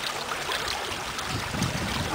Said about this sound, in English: I'm going to pour the water, most of the water out.